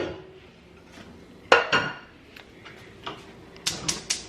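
A cooking pot is handled nearby: a few sharp metallic clanks and knocks, a loud pair early and a quick cluster near the end, over a quiet room.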